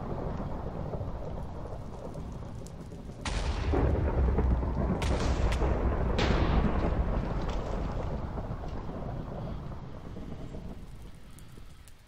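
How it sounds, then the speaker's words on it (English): A lightning strike brings a sudden loud crash of thunder over steady rain in the Minecraft modpack FTB Agrarian Skies, followed by a few sharp cracks before a long rumbling fade. "Ow, I wasn't expecting the lightning."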